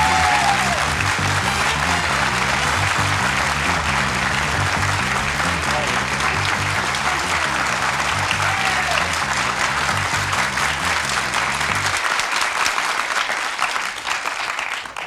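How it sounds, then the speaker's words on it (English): A large concert audience claps for a performer in a London venue, dense, steady and loud, with a sustained musical tone underneath that cuts off near the end. "It's quite pleasant to have the star applaud the audience."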